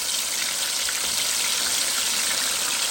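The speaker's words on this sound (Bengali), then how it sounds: "আর এখানে আমি এখন তান্দুরি চিকেন ফ্রাই করে নিব" Tandoori chicken frying in a little oil, giving a steady, dense sizzle and crackle that stays loud and close the whole time with no talking.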